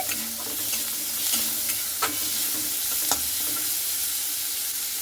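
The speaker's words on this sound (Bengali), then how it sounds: "এরপরে কুচানোগুলোকে খুব সুন্দর করে লাল লাল করে ভেজে নিতে হবে এখানে" Chopped onion, chilli and garlic fry in a pan with a loud, continuous close sizzle, broken by a few scrapes and clinks of a spoon stirring, no voices.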